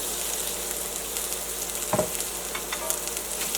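Turmeric powder frying with green papaya curry in a pan, a dense, even sizzle up close with a single spoon scrape near the middle and light clinks later.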